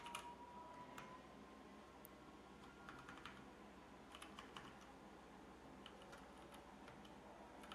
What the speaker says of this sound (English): I'm a real person typing this.